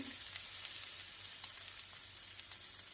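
Filet steaks seasoned with salt and pepper sear in a cast iron skillet, making a soft, steady sizzle with light spitting crackles, heard close but fairly quiet, with no voices.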